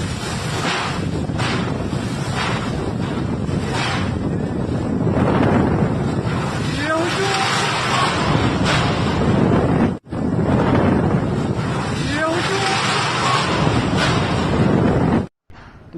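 Strong storm wind with rain, a loud continuous roar and buffeting gusts against the microphone that swell and ease, broken by a brief cut near the end.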